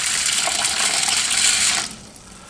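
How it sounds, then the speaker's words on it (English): Cold water poured over barley in a stainless steel bowl, a steady bright splashing and gushing that runs for about two seconds, then stops abruptly, leaving a quiet room tone. "I'm going to cover this with 2 cups of cold water"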